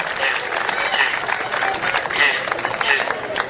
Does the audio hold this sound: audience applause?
yes